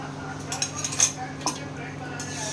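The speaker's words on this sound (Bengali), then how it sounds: "এই অবস্থায় আমি দিয়ে দেবো বাটিটা ধুয়ে আমি একবার জল দিয়ে দেবো" Dishes and utensils clatter in a home kitchen as a spice bowl is rinsed and water is added to sautéed curry masala, with a few sharp clinks and a brief splash over a steady background hum.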